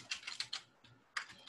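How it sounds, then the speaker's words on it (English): Rapid keystrokes on a computer keyboard while Java code is typed, coming in clustered bursts with a brief pause in the middle, close and clear with no talking. "I like typing this stuff out because I'm just building muscle memory"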